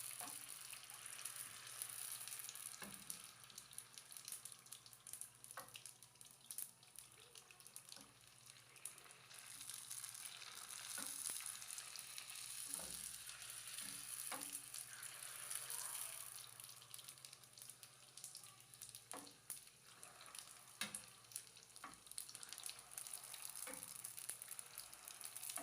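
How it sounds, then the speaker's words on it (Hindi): Gol gappa puri dough balls deep-fry in hot oil with a faint, continuous fizzing hiss and occasional small crackles, heard quietly from a distance. "इनकी भी हम साइड चेंज करेंगे और दूसरी साइड से भी इनको फ्राई होने देंगे और गोल्डन ब्राउन होने तक इनको फ्राई करेंगे"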